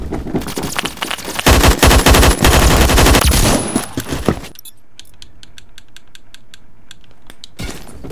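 Rapid automatic rifle fire from the Phantom Forces shooter game in a subway station, a loud, dense sustained burst of shots followed by quieter, evenly spaced clicks and taps.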